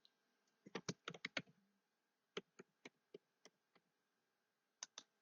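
Password typed on a computer keyboard, a quick close burst of clicking keystrokes, then a pause and a sparser run of single taps, with more keys struck near the end in a quiet room.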